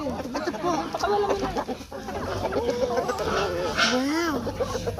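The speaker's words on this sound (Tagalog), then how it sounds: "Ang ating mga manok. Ang babait po nila. Ang laki nito. Ang laking tandang." Chicken clucks and a rooster's calls rise over a busy farmyard, with people talking throughout close by.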